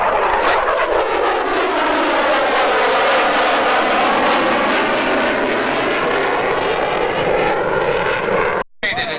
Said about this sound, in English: I present to you the F-35